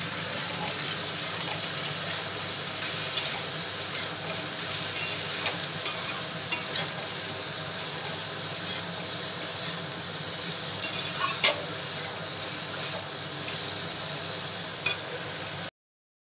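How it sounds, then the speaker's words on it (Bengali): Jackfruit pieces fry with salt and turmeric in a soft, steady sizzle, broken by occasional light clinks and stirring taps. "কাঁঠালটা আমার ভাজা হয়ে গেছে"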